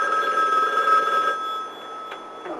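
A telephone bell rings downstairs in a house, a bright trilling ring that sounds clearly for over a second, then stops, leaving faint room noise and a couple of small clicks.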